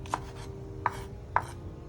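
A knife chops through sweet pepper, garlic, tomato and onions on a board with three crisp, evenly spaced thunks over a low background hum, close and moderately quiet.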